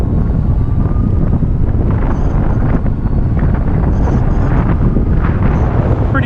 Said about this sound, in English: Pretty windy day this direction.